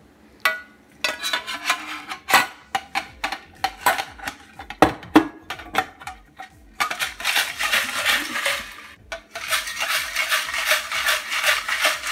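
A peppermint apple cocktail is shaken hard in a sealed shaker, giving bursts of rattling ice and clinking, then a steady dense rattle that breaks off briefly and resumes, loud and close.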